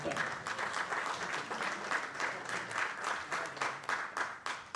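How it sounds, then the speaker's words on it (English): An audience at a conference on climate change mitigation and sustainable irrigation claps for the institute's management and staff, a moderately distant, rippling round of applause that carries on evenly throughout. "can we have a round of applause for Nihort management and staff?"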